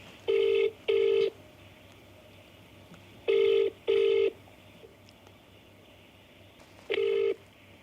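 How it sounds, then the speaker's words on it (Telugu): Ringback tone of an outgoing phone call, heard as three bursts of steady electronic tone, the first two a close double ring, spaced by pauses, clear with no talk. "రింగ్ అవుతుంది."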